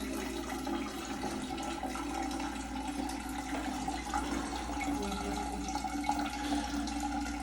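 Water sits pooled on a newly re-tiled bathroom floor and drains away slowly, making a steady close trickle and gurgle with a low background hum. There is no talking.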